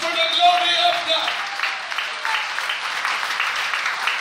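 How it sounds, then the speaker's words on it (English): A church congregation claps along, a steady wash of many hands following a preacher's voice, sustained and fairly close. "clap your hands for the glory of God"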